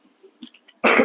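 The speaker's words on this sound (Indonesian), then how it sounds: "Lu terakhir batuk kapan?" A single harsh, loud cough bursts out near the end after a few faint mouth sounds, from someone snacking on fried chicken and tofu at home.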